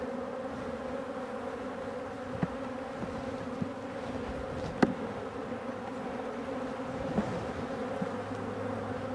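Honeybees from an opened hive holding brood and honey swarm close by in a dense, continuous buzz, with a few faint knocks and clicks of handling underneath.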